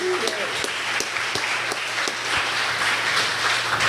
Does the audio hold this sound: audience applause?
yes